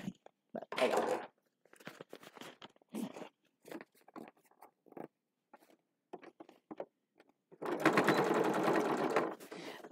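A sewing machine topstitches fabric in short, close bursts of rapid whirring, stopping and starting several times before one longer steady run near the end. Quiet pauses separate the runs, and nobody speaks.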